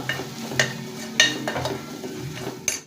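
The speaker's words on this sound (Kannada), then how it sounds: "ಖಾರ ಪುಡಿ ಧನಿಯ ಪುಡಿ ಹಾಕೋಣ ಅದು ಸ್ವಲ್ಪ ಫ್ರೈ ಆಗಬೇಕು" Chili powder and coriander powder fry in a pan as a spatula stirs them, making a soft sizzle with a few distinct scraping strokes close by.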